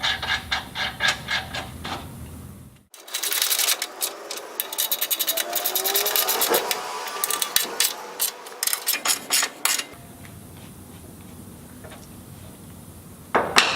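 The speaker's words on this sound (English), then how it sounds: "With your 13mm socket, we'll tighten the 4 sump guard bolts first." Ratchet wrench with a 13mm socket tightening the four sump guard bolts on a Land Rover Discovery 3/4 transmission guard install: rapid close metallic clicking in bursts, with short pauses between strokes and no talk.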